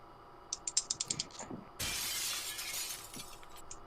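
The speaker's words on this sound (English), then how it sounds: "the sounds of breaking glass as it starts to rain down on you" Rapid series of sharp clicks, then a sudden loud crash of breaking glass settling into a sustained shimmering hiss of falling shards, faint and played back as a sound effect.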